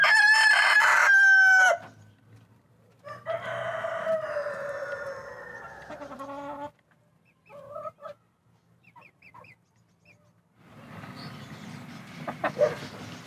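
A rooster crows loudly and close at a village poultry farm, followed by chickens clucking in short bursts and another long crow, with quiet gaps in between.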